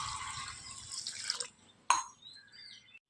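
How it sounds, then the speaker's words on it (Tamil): Water poured from a tumbler over soaking urad dal in a kitchen, a broad splashing pour for over a second, then a short sharp splash and fainter trickling, close and alone without talk. "இப்போ இந்த 1 டம்ளர் உளுந்துக்கு 2 டம்ளர் தண்ணி விட்டு நல்லா ஊற வச்சுருவாங்க."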